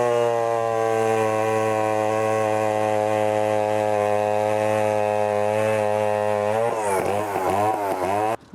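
A Solo Rex chainsaw runs steadily and loud at high revs with a strong harmonic drone, then near the end the engine speed wavers and bogs briefly before cutting off.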